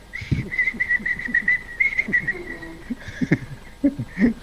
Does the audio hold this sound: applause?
no